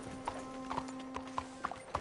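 Video game horse hooves clop in a quick, steady rhythm, fairly faint, with a faint background hum.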